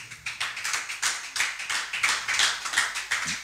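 A church congregation claps together, quick, steady, close applause in a lively rhythm, heard alone without voices for a few seconds.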